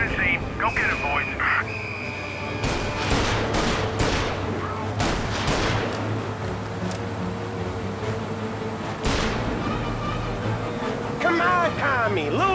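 Rapid bursts of gunfire crack through a 1930s police chase in the video game Mafia, dense volleys repeating over a rumbling engine while voices shout over the action.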